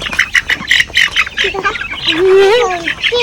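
A large chicken near a coop gives a run of loud, close, rapid squawks, followed by a longer, wavering, drawn-out cry.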